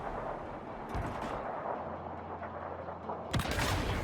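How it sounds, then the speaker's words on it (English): Cruiser guns booming in World of Warships Legends during its Rust n Rumble April Fools event, a few heavy blasts with rumbling tails over a low mechanical drone, the last salvo loud near the end. "Now I was just firing blindly,"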